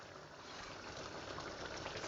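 Chicken spinach curry simmering and bubbling in a pot, a steady soft hiss of cooking liquid and steam that holds evenly throughout, close and continuous, with no voices.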